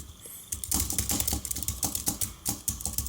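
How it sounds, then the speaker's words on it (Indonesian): Rapid clacking keystrokes on a small Flyshark mechanical keyboard, a steady uneven patter of loud, close clicks with no talking. "agak lumayan berisik sih kalau buat ngetik."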